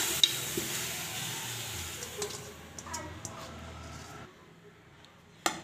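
Beef mince is tipped into a hot pressure cooker on a stovetop and stirred, giving close sizzling and scraping that fades out toward the end, with brief clatters.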